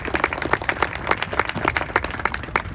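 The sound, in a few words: audience applause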